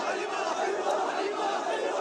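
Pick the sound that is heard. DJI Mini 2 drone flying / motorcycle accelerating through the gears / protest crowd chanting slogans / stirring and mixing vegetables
protest crowd chanting slogans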